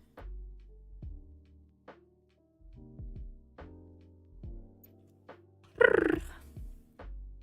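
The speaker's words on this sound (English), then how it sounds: "my cat makes this noise sometimes" A pet cat purrs in soft rhythmic pulses, each low throbbing burst rising and fading at a steady pace, close and quiet, with one brief louder vocal outburst partway through.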